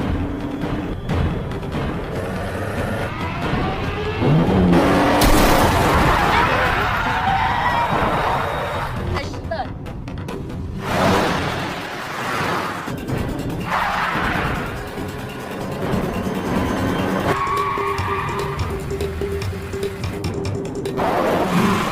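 Cars chasing each other on a highway in a film, a dense roar of engines and rushing traffic with swelling crashes and impacts layered under a steady music-like bed.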